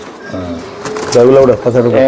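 Racing pigeons coo in low, throaty bursts while a person talks close by, the cooing swelling louder toward the end.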